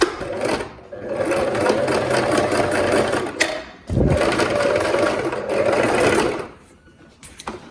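A sewing machine stitches the seat seam of palazzo trousers, running in two long steady bursts with a short pause between them, then slowing to a stop.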